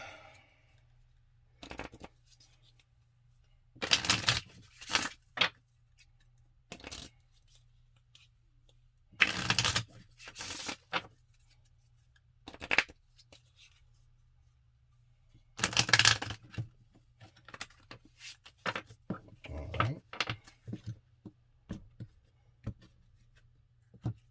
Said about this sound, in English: let's go ahead and pull some soulmate cards